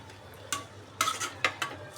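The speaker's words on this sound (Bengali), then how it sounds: "এই ডালটা তেলে দিয়ে দিলাম" Lentils dropped into hot oil for dal with cumin and dried chilli, a low steady sizzle broken by several sharp spoon-against-pan stirring clinks, close by, with no speech.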